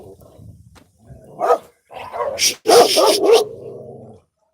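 Dogs bark in a few sharp, loud bursts out in the Colombian countryside, close by, with a human voice mixed in among the yaps.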